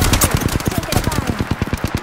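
Rapid automatic gunfire in the shooter game Apex Legends, a loud, steady stream of closely spaced shots rattling for about two seconds.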